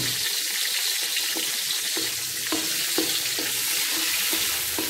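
Green chili, ginger and garlic fry in hot oil, a steady close sizzle with bursts of stirring, crackling continuously without talk.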